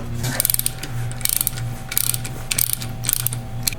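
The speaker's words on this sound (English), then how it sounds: "We're just going to take all the bolts out in front and see if we can get it to crack and drain" Bolts coming out of a Dana 44 TTB front axle on a Ford F-150, a fast ratchet clicking in repeated bursts over a steady low mechanical hum, close and fairly loud with short pauses between runs.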